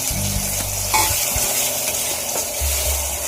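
Finely chopped onion fries with ginger, chili and garlic paste for tavo chapdi, producing a steady close sizzle with a low hum and a few stirring knocks, no voices.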